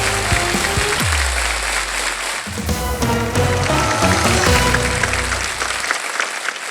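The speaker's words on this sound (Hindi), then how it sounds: "जोरदार तालियां." Studio audience on a Hindi TV game show, Wheel of Fortune, applauds loudly over a swelling burst of show music, the clapping steady throughout.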